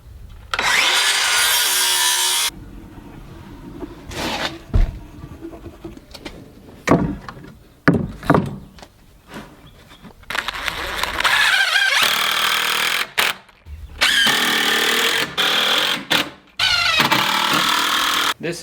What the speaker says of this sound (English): I'm just putting them together and just drilling them together.